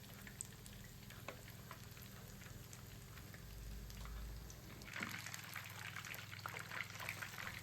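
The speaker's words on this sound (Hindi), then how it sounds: "केक स्क्यूअर हमारा फ्रायर के अंदर फ्राई हो रहा है" Chicken skewers fry in hot oil inside a fryer, giving a faint, continuous sizzle and bubbling with a few clinks and stirs.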